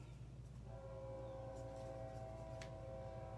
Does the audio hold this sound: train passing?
yes